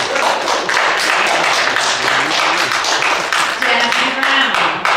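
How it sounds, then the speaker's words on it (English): Audience clapping at a city council candidate forum, a loud steady round of applause from a room of people lasting several seconds, with voices talking underneath. "Can I get 10 seconds back from the clapping, please?"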